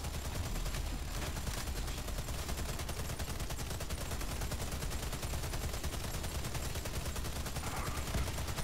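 Turret-defense game shootout on a hard Pripyat map, played as an engineer: relentless rapid-fire gunfire rattling without pause, a dense, loud, steady automatic barrage filling every moment, close and alone with no talk over it.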